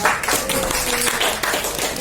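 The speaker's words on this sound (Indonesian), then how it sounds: "Beri tepuk tangan dulu untuk Bu Indah." Audience applause at a school gathering, a short, busy patter of clapping hands, fairly close and loud, with a faint murmur of voices underneath.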